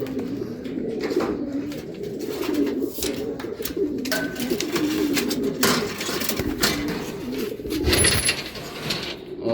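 Racing pigeons arriving home from a training flight out of General Luna, Quezon, cooing steadily near the loft, with scattered clicks, shuffles and a brief flutter of activity throughout.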